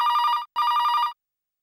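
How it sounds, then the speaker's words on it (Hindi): A telephone rings twice, each bright trilling burst lasting about half a second, close and loud, then silence. "या इस वक्त किसका फोन आया?"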